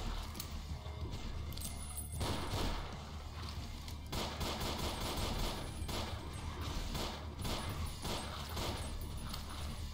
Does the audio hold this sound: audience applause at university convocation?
no